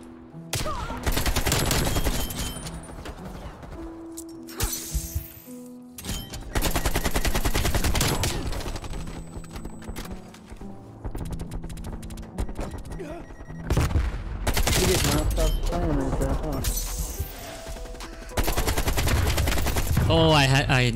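Dense bursts of automatic rifle fire from an AK-47 in a first-person shooter game, with loud rapid volleys broken by short pauses and a player talking between the shots.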